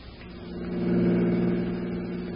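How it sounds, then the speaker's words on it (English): An old-time radio drama car effect: a vintage engine hums and swells as the car drives and slows to pull up, a steady mid-pitched rumble heard close with no voices. "All right, Maud, pull up here."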